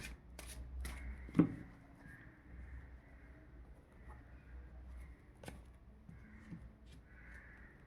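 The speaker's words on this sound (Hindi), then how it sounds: "निकालते हैं कार्ड्स।" Tarot cards are shuffled and drawn, giving a few brief, crisp riffling bursts near the start and another around the middle, separated by a quiet room hum, close and fairly soft, with no talking.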